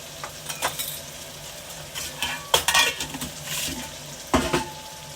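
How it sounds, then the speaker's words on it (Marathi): Masala of chili powder and onion spice sautéing in a hot pan, with bursts of spoon scraping and stirring over a soft, continuous sizzle, close and fairly loud. "आता मसाला चांगला परतून घेऊ आपण"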